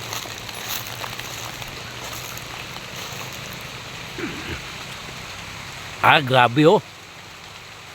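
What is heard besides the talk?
rain falling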